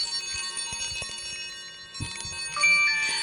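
A shaken amulet's small metal pieces give a light tinkling ring, with soft clicks and rattles and a brighter high chime near the end.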